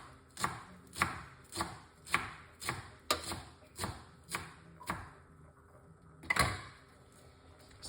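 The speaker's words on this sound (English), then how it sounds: "once you wash it off, you want to cut it up." Fresh washed parsley chopped with a knife on a board, about a dozen crisp, evenly spaced thuds at a steady rhythm, close and fairly quiet, with a short pause and one last firm chop.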